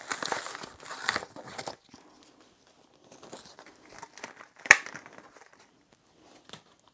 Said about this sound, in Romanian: Așa că haideți să le desfacem și să le testăm și pe ele.